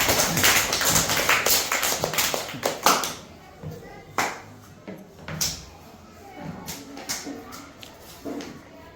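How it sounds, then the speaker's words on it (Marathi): Children clap their hands in a classroom during a lesson on weights and measures, producing a burst of claps over the first three seconds followed by scattered single claps and taps under background voices. "छान बस छान छान टाळ्या वाजवा"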